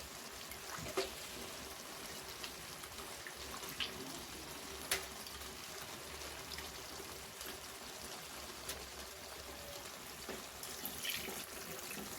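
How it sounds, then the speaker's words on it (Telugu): Water pours steadily from a tap or vessel into a pot of fish curry with tamarind, a faint continuous trickling and splashing with no speech. "ఈ ముక్కలన్నీ మునిగేంత వరకు మనం వాటర్ వేసుకోవాలి."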